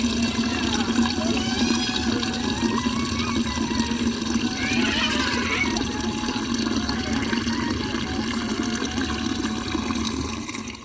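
Water runs steadily from a tap in a village, a continuous gushing, splashing flow that stays loud and close from start to finish, with faint background activity beneath it.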